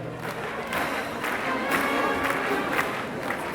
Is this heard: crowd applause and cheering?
yes